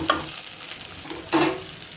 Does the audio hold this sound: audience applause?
no